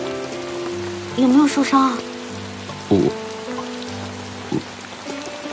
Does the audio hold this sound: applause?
no